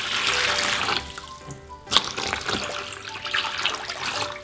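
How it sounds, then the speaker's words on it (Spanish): Tap water gushes into a plastic tub being filled to the brim for soaking orbeez water beads, a steady close splashing rush with a sharp knock partway through and shifting, gurgling tone as the level rises. "Ya solo queda llenarlo todo de agua"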